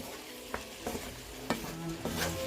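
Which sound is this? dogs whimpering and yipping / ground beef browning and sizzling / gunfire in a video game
ground beef browning and sizzling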